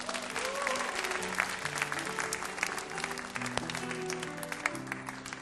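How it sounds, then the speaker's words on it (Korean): Applause from the congregation at a church youth worship service, steady clapping that carries on throughout with a few louder claps, while organ or keyboard notes play underneath. "우리 전영주 청년, 김소라 청년, 한갑수 청년, 새별 청년을 박수로 앞으로 모셔보도록 하겠습니다."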